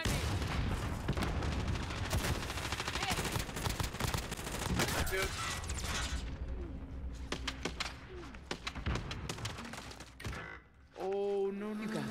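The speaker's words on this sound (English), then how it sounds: "They're shooting at me." Rapid automatic gunfire in Call of Duty Warzone Plunder, dense bursts of shots crackling for several seconds before thinning into sparse single shots, followed by a short electronic tone.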